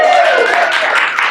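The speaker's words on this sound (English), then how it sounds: "Big round of applause." Audience clapping and applause greets the introduction of a productivity panel at Asana, a short burst of steady, fairly loud claps filling the room.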